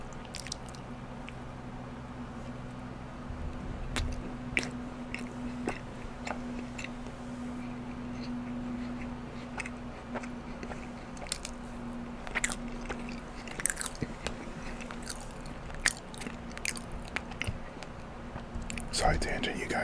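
Soft, chewy gourmet chocolate chunk cookies are bitten and chewed close to the mic, with repeated moist squishy chewing and small crunchy bites over a low steady background.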